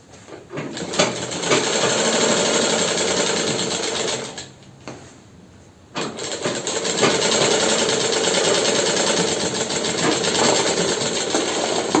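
Sewing machine stitching the gusset into a pair of underwear, running loud and steady in long bursts with a brief pause in the middle before the stitching resumes.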